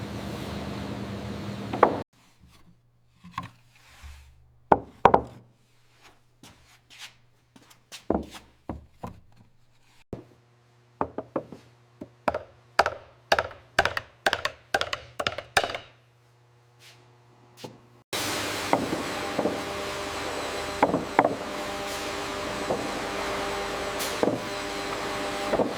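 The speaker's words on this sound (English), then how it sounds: "Slowly and carefully the wood bends inward as metal hoops are tightened bit by bit" Oak wine barrel staves being bent inward as metal hoops are tightened bit by bit, giving a series of sharp knocks and hammer-like blows in irregular bursts, followed by a steady loud mechanical roar.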